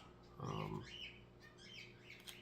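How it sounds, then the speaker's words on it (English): A pet bird chirps and sings indoors at moderate distance, one louder burst of warbling notes followed by fainter intermittent tweets over a quiet room. "And I apologize for my bird serenading you in the background."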